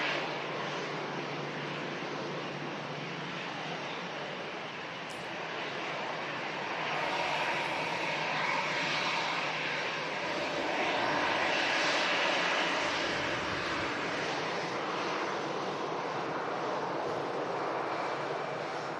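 A jet airliner taxis off the rapid exit at Manchester Airport in strong gusty wind, a steady, moderately loud engine roar and whine that swells slightly midway and holds throughout, with no voices.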